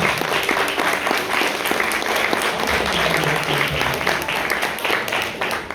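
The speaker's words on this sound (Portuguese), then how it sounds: "Você pode aplaudir Jesus? Mas aplaude como se tivesse com a vitória nas suas mãos." A church audience applauding, dense sustained clapping from a large crowd filling the space, loud and continuous with faint voices underneath.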